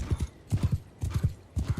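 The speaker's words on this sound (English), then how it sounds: "Now, my horse isn't exactly fast." Horse hooves clip-clopping in quick galloping triplets in the video game Mount and Blade II: Bannerlord, close and rhythmic in short repeated bursts, with a faint whinny and no talking.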